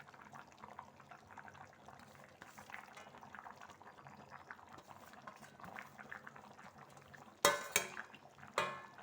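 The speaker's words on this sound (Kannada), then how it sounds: "ಫ್ರೆಂಡ್ಸ್ ನೋಡಿ, ಕುದಿ ಬರ್ತಾ ಇದೆ ನೋಡಿ." Liquid for a one-pot chicken biryani simmers in a covered pot, a soft continuous bubbling for several seconds before a few sharp metallic clanks of pot or utensil ring out near the end.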